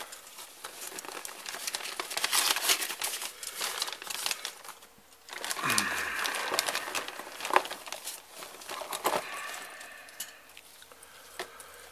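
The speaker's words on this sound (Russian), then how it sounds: "Вкладываем временно это в пакет." Papers for a Kizlyar knife are slipped into a plastic bag, producing close crinkling and rustling in bursts with short pauses and a brief soft thump, with no talking.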